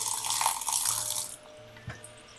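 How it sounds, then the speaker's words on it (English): Water from freshly rinsed bean sprouts splashes and trickles steadily at close range, loudest at first, then easing to a quieter drizzle with a single soft drip-like tap near the end. "Let the water drip."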